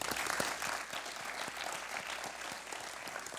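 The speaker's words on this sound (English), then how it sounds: "Let's give him another round of applause." A room of attendees at a community event applauds in a continuous wash of many hands clapping, moderately distant and fairly even throughout, with no talking.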